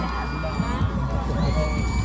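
Festival show audience in a lively crowd, a short burst of cheering and clapping with shouts and whoops blending into a dense, loud wash.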